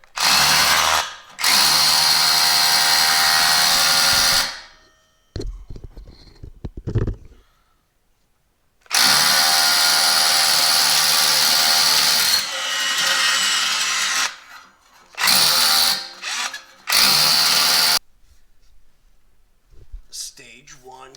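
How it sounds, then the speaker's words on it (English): A power drill bores a ring of holes around the catalytic converter of a 2024 Harley-Davidson Road Glide. Loud sustained bursts of several seconds each are broken by pauses and short lighter runs. "I'm just going to drill around the outside just like that."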